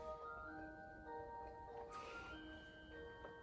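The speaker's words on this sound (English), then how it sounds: "there's a clock playing in the background" An heirloom clock chimes the Tennessee Waltz softly in the background, a faint steady run of tuned notes with one brief brighter burst midway and no talk.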